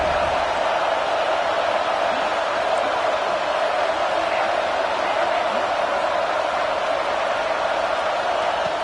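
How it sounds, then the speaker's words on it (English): A stadium crowd at a Florida versus USC college football game keeps up a steady, loud roar early in the contest, a constant wall of many voices with no distinct breaks. "Listen to the crowd energy here in the early going."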